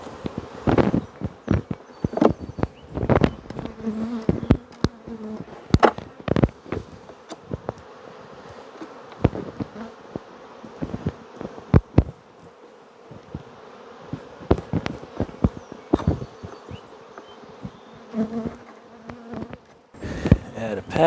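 Honeybees hum steadily around an open hive during a nuc transfer, with close bees darting past the microphone as louder passing buzzes, mixed with frequent sharp knocks and handling clatter of frames and boxes.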